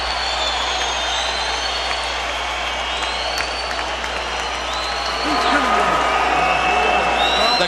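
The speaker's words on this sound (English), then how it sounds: "The crowd is ecstatic" A boxing arena crowd roars and cheers steadily with loud, dense noise, swelling louder near the end, while announcers speak over the cheering.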